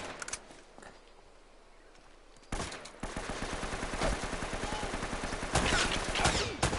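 Gunfire rattles through a firefight in Uncharted: Drake's Fortune, with scattered distant shots at first, then steady rapid bursts that grow louder and denser, with occasional faint voices underneath.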